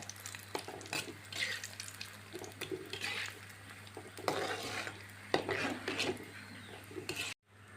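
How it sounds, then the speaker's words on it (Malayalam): Small bread pieces fry in hot oil in a pan, giving a quiet, continuous sizzle broken by frequent stirring scrapes and light clinks over a low steady hum. "ഇതിലിട്ട് നമുക്ക് കുറേശ്ശെ ഇട്ട് നമുക്കൊന്ന് ഫ്രൈ ചെയ്തെടുക്കാം."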